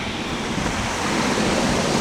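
River water flowing down from Huai Phok waterfall makes a loud, steady broadband rush, close by and unbroken, with no voices.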